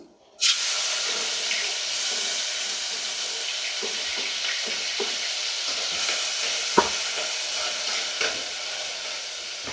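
Chopped onion drops into hot oil for a macaroni sauce, setting off a sudden loud sizzle after a brief silence that then holds as a steady hiss with small pops and no speech.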